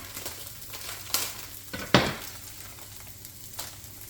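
Rice goes into a hot pan while cooking a Brazilian fish in coconut sauce, giving a soft steady sizzle with a few sharp scrapes and clinks of a utensil against the pan, fairly quiet.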